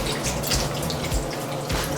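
Water is poured into a pot of tomato sauce for stuffed squash, a steady, close pouring and splashing rush lasting about two seconds with no talk.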